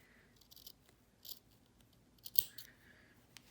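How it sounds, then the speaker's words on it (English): Scissors snip carefully through elastic swimsuit binding during a Banksia swimsuit sewing project, a few quiet, separate cuts at close range, with one sharper snip near the end and no talking. "Just being really careful as I go along, just not to cut anything but that binding."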